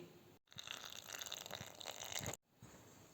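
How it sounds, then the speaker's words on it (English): Water trickles softly and steadily for about two seconds as it is gradually poured into flour for Chinese dim sum dumpling dough, a quiet pour with brief silence before and after. "Add water gradually."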